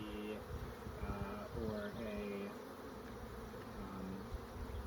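Honeybees swarm around an open hive while a third brood box is added, a steady dense drone with shifting buzzing tones, close and continuous, with a person speaking faintly underneath.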